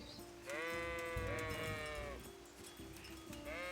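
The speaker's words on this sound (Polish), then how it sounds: "Owce widzę, nawet słychać." Sheep in the video game Kingdom Come: Deliverance bleat several times in wavering, nasal calls over a steady low ambient hum, fairly close and distinct.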